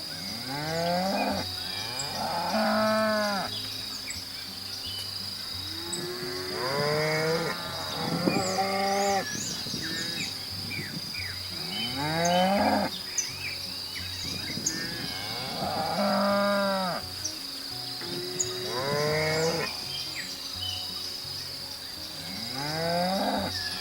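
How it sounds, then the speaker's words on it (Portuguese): A cow moos repeatedly, about six drawn-out, rising-and-falling calls spaced a few seconds apart, loud and close against quiet gaps and a faint steady background tone. "Vaca."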